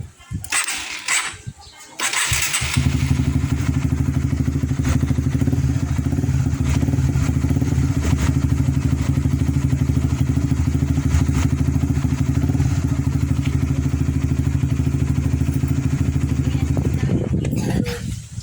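A Honda CBR 150 motorcycle, just restarted after its flat battery was charged, idles steadily and loudly up close after a few brief clattering knocks, its even engine note holding for about fifteen seconds before cutting off.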